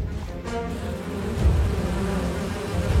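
Bees buzz continuously around, a close, wavering drone that swells and fades slightly with no talking.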